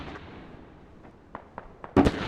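Distant artillery barrage explosions in the video game Squad: a few faint, scattered thumps followed by a louder cluster of bursts near the end, over a low background rumble.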